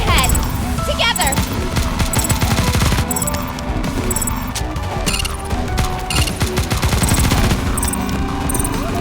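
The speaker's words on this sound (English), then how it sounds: "Fire straight ahead! Together!" Dense, sustained automatic gunfire in the video game NIKKE, loud and continuous with rapid bursts and mechanical clatter, mixed with voices talking over it.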